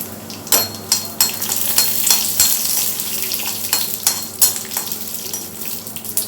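Dried red chilies and cinnamon spitting and sizzling in hot oil in a pan, a steady fry with sharp crackling pops and occasional utensil clinks, close and fairly loud.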